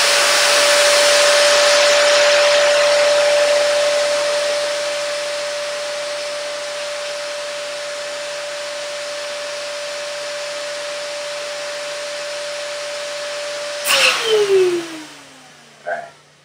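A Shishavac vacuum running through a hookah hose, a loud steady motor whine with a constant tone that drops slightly after a few seconds, then switches off and winds down, followed by a couple of brief handling knocks.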